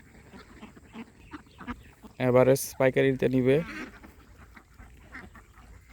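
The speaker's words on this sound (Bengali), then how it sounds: "এগুলো সব পাতি হাঁসগুলো আজকে বেচে দিম।" Domestic ducks in a pen before being sold on Christmas Day, giving soft, scattered quacks and rustling throughout, with someone speaking loudly over them partway through.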